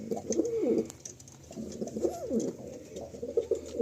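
Pigeons, including male Malbai pigeons, coo inside a pigeon loft. Several low rolling coos repeat in bursts close by, with no talking.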